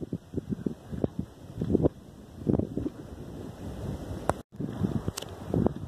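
Coastal wind at Bahia San Marte gusts hard against the microphone in rough, buffeting bursts. It rises and falls unevenly throughout with a brief dropout near the end, and no voices are heard.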